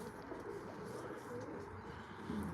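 Pigeons coo in a low, steady murmur inside an outdoor aviary that has a water bath, with soft bubbling calls overlapping continuously at moderate distance.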